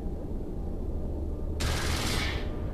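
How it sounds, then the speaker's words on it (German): Spaceship guns opening fire on a fuel depot in EVE Online: after a steady low hum, a sudden loud burst of rapid fire begins and continues to the end. "Treibstofflager und jetzt eröffnen wir das Feuer."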